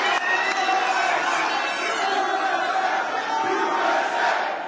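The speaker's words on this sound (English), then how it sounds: "For the most part, it was cheering." A rally crowd cheers and shouts together, a loud mass of voices with some whoops rising above the din, sustained across the whole stretch with a brief swell near the end.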